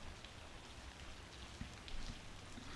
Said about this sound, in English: Thank goodness it's only rain and not one of those traditional Memphis thunderstorms.